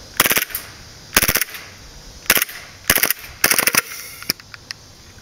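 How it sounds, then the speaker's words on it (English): A WE Glock 18C gas blowback airsoft pistol running on propane fires full auto in five sharp bursts of rapid cracks, with a single shot near the end. The shots are loud and close, and no one speaks. "Now it's time to fire my new WE Glock 18C."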